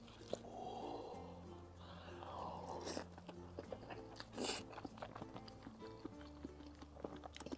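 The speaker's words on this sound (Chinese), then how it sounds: "先来一口这个蟹黄拌饭啊" Crab roe mixed rice being eaten, with close, wet chewing and biting sounds repeating over several seconds at a quiet level, plus a few sharper clicks and brief mouth noises; nobody talks.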